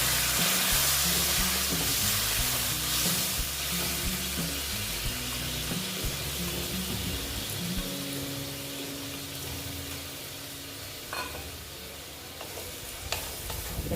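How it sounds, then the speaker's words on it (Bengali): Soaked mung dal drops into spiced masala frying in oil, setting off a bright burst of sizzling that settles into a steady hiss, with stirring scrapes and clinks of a ladle against the pan close by. "ডালটা আমি দিয়ে দিচ্ছি"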